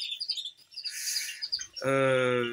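Colour canaries in a breeding aviary chirp and trill in bright bursts, followed by a sustained clear melodic song phrase, close and fairly loud.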